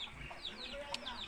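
A chicken clucks in short, close bursts in a farmyard where piglets and a pig are kept, with faint background noise and no clear talk.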